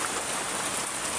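Rain falls as a brief, steady, broad hiss of drops on surfaces, with water also dripping inside a house.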